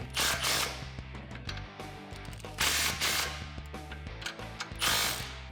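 Wrench tightening 14 mm nuts on the sway bar brackets of a 2005-2014 Mustang, heard as close, busy mechanical clicking and ratcheting with three louder bursts of activity and no talking.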